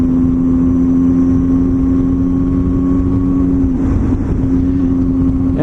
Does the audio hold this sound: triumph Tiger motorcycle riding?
yes